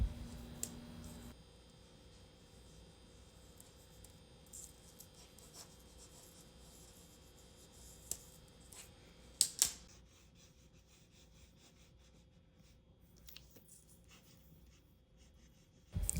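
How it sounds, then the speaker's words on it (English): Words written by hand in cursive with smooth, continuous strokes give a faint, steady scratching and rubbing across the page, with a few sharper clicks midway and no voices. "Writing in cursive requires smooth and continuous hand and finger movements"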